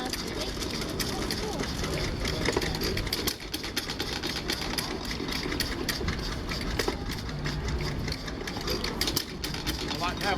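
A 1909 steam tractor engine runs at a granite festival, giving a continuous mechanical chatter and hiss at a steady pace, with people talking nearby.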